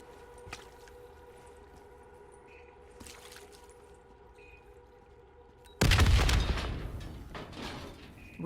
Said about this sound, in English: The explosion blocked our path